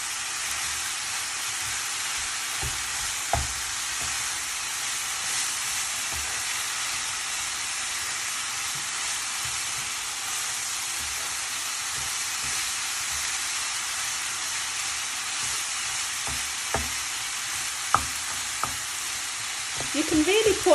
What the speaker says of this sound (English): I'm adding the cabbage. Cabbage only needs a few minutes as well to cook